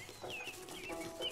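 Cartoon chickens on a farm in the My Friend Peppa Pig game cluck softly, a few short chirpy calls rising and falling over a faint musical background.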